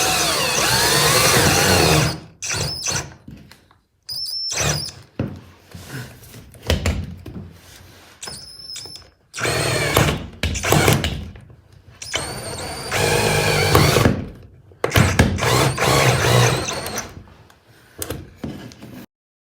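A power driver sets stainless steel screws under a kitchen in a Fuso FG truck habitat build, with repeated close, loud bursts of motor whine separated by pauses and clicks, some of them long runs and some short.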